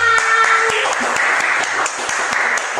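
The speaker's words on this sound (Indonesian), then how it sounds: "Tepuk tangan" Audience applause at a casual talk show, a short burst of clapping heard close and fairly loud with individual claps standing out, lasting a few seconds.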